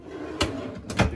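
Two quick thuds of deep drawers sliding shut in the bathroom vanity of a 2014 Millennium H3-45 coach, close and fairly quiet with a second knock right after the last.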